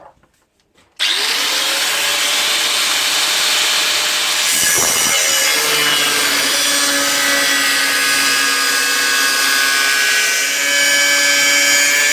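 A power saw bites into a steel I-beam in a workshop, starting abruptly after a brief pause and grinding loudly and continuously with a high metallic whine.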